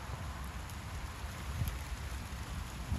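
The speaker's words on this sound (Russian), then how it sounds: "Дождик надо завязывать." Heavy rain falling outdoors, a steady, even hiss of downpour with soft patters and no voices.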